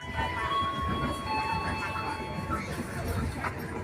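Sritanjung economy passenger train running between Madiun and Surabaya Gubeng, heard from inside the carriage: a steady, loud rumble of wheels and car body with faint tonal whines, continuous throughout without talk.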